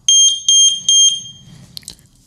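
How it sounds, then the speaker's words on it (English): A Third Reality water leak sensor alarm sounds three loud, piercing high-pitched beeps in a steady rhythm, followed by faint handling noise and a couple of soft clicks. "So I'm going to set off one of my alarms right now."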